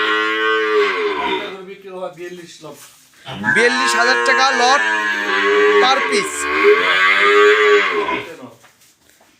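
Cows at a cattle market lowing loudly and close, long drawn-out moos rising and falling over several seconds, while someone talks over them.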